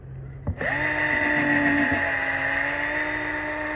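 Powered rotary brush spinning up inside a truck's service line housing, a steady high whine with a strong tonal hum that starts abruptly after a brief knock and runs continuously, loud and close, with no talk over it.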